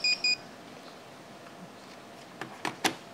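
A short electronic notification beep for an incoming text message, two quick tones at the start of a noisy studio setting, followed later by a few sharp clacks.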